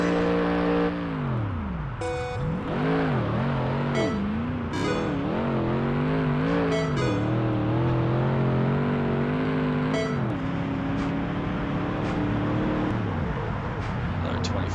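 A racing game car engine, Ford or Chevy, revs unevenly, its pitch sweeping up and down in rough surges, loud and continuous, with gear shifts and a voice talking over it.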